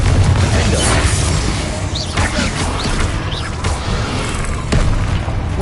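Confringo fire-blast spell explosions in the video game Hogwarts Legacy, heavy booming bursts and crackling impacts layered over dense, continuous combat noise and music, loud and sustained throughout.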